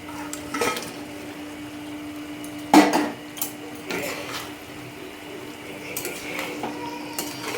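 Chicken pieces tip into a pan with cornflour for dry chilli chicken and get stirred: scattered metallic scrapes and taps, one sharp clank near the middle, over a low steady kitchen hum.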